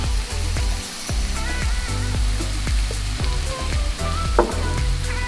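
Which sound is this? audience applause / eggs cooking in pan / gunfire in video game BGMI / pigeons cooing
eggs cooking in pan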